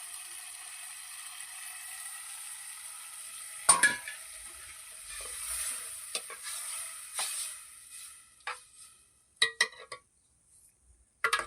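Urad dal curry with buttermilk simmers in a pan, giving a steady soft sizzle and bubbling, broken by several sharp scraping stirs and clinks of a spoon against the pan, louder near the end.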